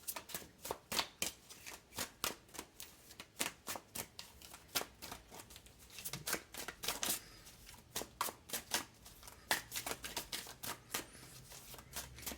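Tarot cards are shuffled over and over in quick, riffling bursts, crisp and close, with short pauses between runs.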